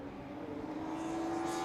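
A Radical race car at Silverstone drones past with a steady, rising engine note that holds fairly faint and distant over a short moment.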